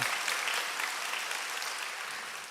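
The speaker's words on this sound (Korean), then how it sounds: "다시 한번 영광의 박수 올려드립니다." A church congregation claps together in a dense, steady round of applause that fades slightly toward the end, heard at a moderate distance without speech.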